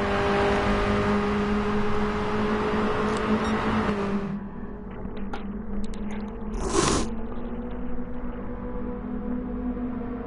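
Race cars in GT Sport at Interlagos roar steadily, one engine note holding a sustained drone, then dropping back as others whine past, with a brief sharp burst of noise partway through.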